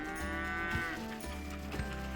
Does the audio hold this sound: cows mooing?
yes